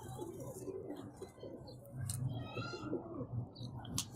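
A gifted pet Teddy pigeon, one of a male and female pair, coos in low, soft murmurs, faint and close, with light clicks and rustling around it.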